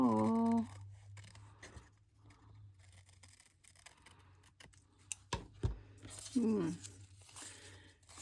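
Scissors snip paper for a junk journal in a few quiet cuts and rustles, close by, with a voice speaking over parts of it.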